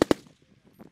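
An M240 Bravo machine gun fires two sharp, close shots in quick succession on a shooting range, followed by a short fading echo and faint background noise.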